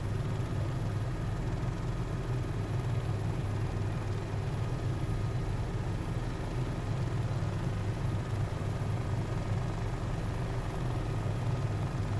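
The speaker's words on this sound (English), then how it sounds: "Huey is pretty fantastic. The sounds are the most unbelievable sounds I've ever heard in the sim." Bell UH-1 Huey helicopter engine and rotor in Microsoft Flight Simulator, a constant low rumbling drone with steady rotor thrum, loud and unbroken throughout with no voices.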